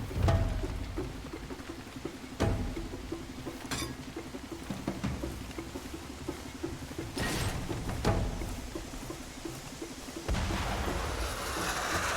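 Mortar shells explode in the video game Far Cry 2, several heavy booms landing at irregular intervals over a rumbling, noisy background.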